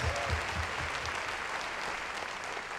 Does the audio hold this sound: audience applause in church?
yes